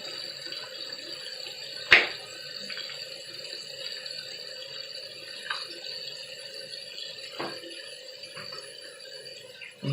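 Hot water running steadily from a bathroom tap into a sink, a close, continuous hiss and splash with a few sharp clicks and knocks over it.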